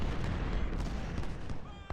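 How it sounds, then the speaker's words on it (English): Musket volleys crackle in an Ultimate General: Civil War battle at Gettysburg, a dense, distant-sounding patter of massed gunfire with low rumbling booms, continuous over a couple of seconds. "You can see their volley fire."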